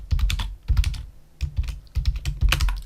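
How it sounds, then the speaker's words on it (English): Quick bursts of typing on a computer keyboard, clustered clacking keystrokes arriving in three or four short runs with brief pauses between, close and clear with no talking. "then you just type whatever you want to type in there"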